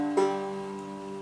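A single plucked note on a cigar box guitar with a twangy, banjo-like tone, ringing and slowly decaying, close up, with a second pluck just starting at the end.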